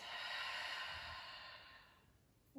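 A slow, deep exhale out through the mouth during a breathing exercise, a soft, close, breathy rush that gradually fades away, with a faint sound at the very end.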